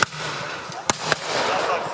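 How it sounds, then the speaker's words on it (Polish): Musket gunfire at a historical battle reenactment near Bydgoszcz with hussar cavalry and infantry, three sharp separate shots over a constant outdoor crowd murmur, the first very close and the rest spaced apart. "Na drugim planie muszkieterzy ostrzeliwują się nawzajem."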